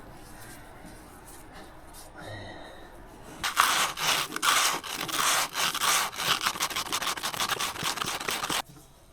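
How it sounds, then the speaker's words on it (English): Sandpaper scrubbing a burned electrical contact on an old tractor dozer abandoned in the woods for years: a quiet pause, then a rapid run of close, raspy back-and-forth strokes that stop abruptly. "I'll give that a quick sand, clean that up"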